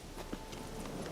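Horse hooves clip-clopping in the video game The Witcher 3, a few quick faint beats over a dense background in a very short stretch.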